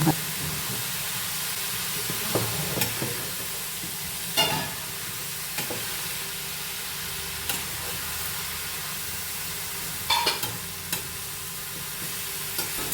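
Red amaranth (cheera) thoran, made without coconut, is stirred in a hot frying pan: a steady close sizzle and hiss with a few sharp spatula scrapes and clacks against the pan at irregular intervals.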